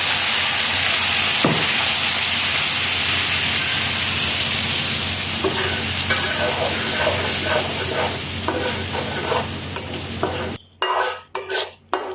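Spices including turmeric, chili, ginger, garlic, onion paste and coriander sizzle loudly in hot oil for a duck and potato curry, a steady close frying hiss with stirring scrapes, ending in sharp, choppy bursts.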